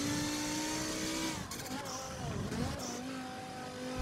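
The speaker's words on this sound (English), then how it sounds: "We're going to brake, drop down another one. Gradually put down that throttle." A race car in Forza Motorsport 7 brakes and drops through the gears, its engine note falling and revving in stepped shifts. The car sounds fairly quiet and steady, with faint game sound under it.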